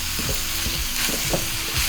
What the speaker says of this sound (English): So just gonna let this simmer just for a little bit